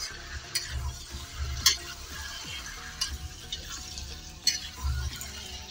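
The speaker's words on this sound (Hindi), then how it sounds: "हम भिंडी में मसालों को मिक्स कर लेंगे" Spiced fried okra and onions are gently stirred in a hot pan for bhindi do pyaza, a soft sizzle under repeated scraping and clinking strokes of a spoon against the pan, close and fairly quiet.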